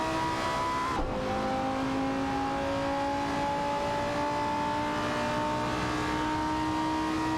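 Racing cars in a video game, a Seat Cupra GT and a Spyker C8 Spider GT2, roar close by in a steady high engine drone, with pitch rising as they accelerate and one shifting gear early on.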